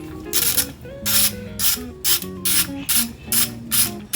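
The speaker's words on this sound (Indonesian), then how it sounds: "Menggunakan kunci sok M10 ukurannya. Diputar berlawanan arah jarum jam ya untuk membukanya." An M10 socket wrench ratchets repeatedly while loosening a bolt on a Nissan Serena C24 engine, giving close, loud bursts of rapid clicking in a steady back-and-forth rhythm.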